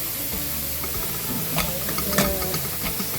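Garlic sizzles in a pan with no added oil while being stirred for a fried fish stew. The frying hiss is steady and close, with a few sharp scraping clicks from the stirring.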